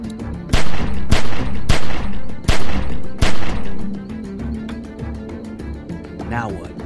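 Video game gunfire in The Walking Dead: 400 Days comes as four or five loud, sharp shots in quick succession. Then it dies away into game ambience while people talk.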